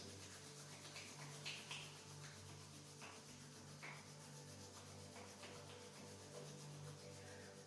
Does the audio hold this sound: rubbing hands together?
yes